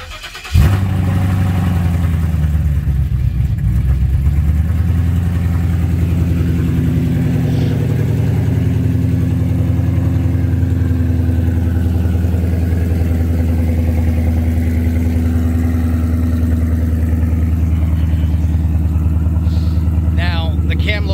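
A 2015 Ford Mustang V8 fitted with aftermarket headers and a 6R80 transmission cranks over and fires, then settles into a loud, steady, lumpy idle that holds close and constant for about twenty seconds.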